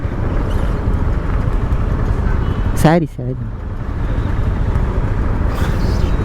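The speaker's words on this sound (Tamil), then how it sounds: "ஸோ இப்போ வந்து இந்த டிராஃபிக்கில் நம்ம நிற்கிறோம்" Road traffic noise heard while stopped on a motorcycle in Tamil Nadu traffic, a steady broadband roar of nearby engines and wind that runs throughout, with a brief louder vehicle pass around the middle and someone talking over it.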